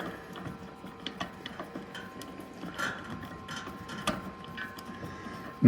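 Ratcheting tool working a bolt loose beneath a Tesla Cybertruck fitted with Hansshow running boards, a steady run of quiet mechanical clicks and ticks over light background noise, with a louder knock at the very end.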